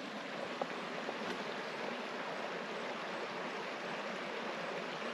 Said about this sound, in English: right here we have a creek.